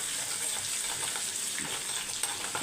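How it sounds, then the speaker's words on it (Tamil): Crushed garlic and ginger go into hot oil with popped mustard seeds, cumin and fennel for a South Indian fish curry, giving a faint, even frying hiss with light crackle and no voices. "கடுகு பொரிஞ்சவுடனே பூண்டும் இஞ்சி நசுக்கி வச்சுருக்கோம்ல அதை சேர்த்துருங்க"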